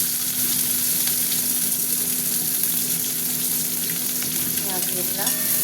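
Onions frying in hot oil with bay leaf and dried chili, a steady dense sizzle running throughout with a low electrical hum beneath and a few faint clinks near the end.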